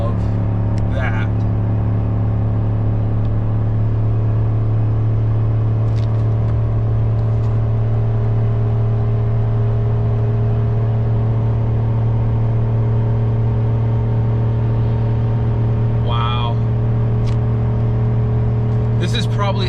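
A GMC Sierra pickup with a 6.2L V8 towing a trailer up a 6% grade, heard from inside the cab as a steady, loud, low engine drone under load, holding an even pitch throughout with no speech.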